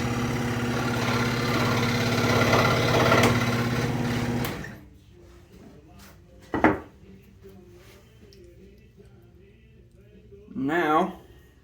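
A power tool cuts a wooden crankbait blank to shape, running as a steady loud whine for about four seconds before stopping, followed by quieter handling noises and short bursts.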